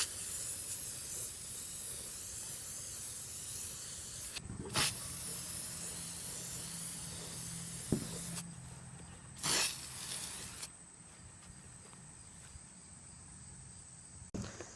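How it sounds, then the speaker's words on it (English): Flat black paint-and-primer spray cans coat a plastic blaster in hissing spray bursts of varying length. Short sharp presses and longer sustained sprays sit over a soft background hiss, heard close. "I'm going to spray paint it with this paint and primer in one, which works on plastic"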